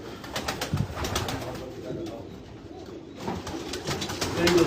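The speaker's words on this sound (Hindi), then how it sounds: "ये कबूतरों को आप देख सकते हैं" Pigeons in a breeder's rooftop loft in Karachi coo steadily amid busy ambient noise, with a brief soft flutter, the calls moderately near and continuing under a muffled background hum.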